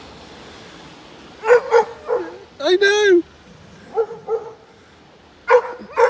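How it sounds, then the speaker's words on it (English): A dog barks in short bursts on a snowy street in Bristol, a few sharp yips and a longer whining bark, fairly close, with a person speaking briefly between them. "you can hear a dog barking"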